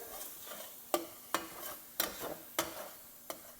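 Minced garlic stirred into softened onions in a pan, with a spatula scraping in sharp strokes about every half second over a soft, steady sizzle, close and fairly quiet, no talking.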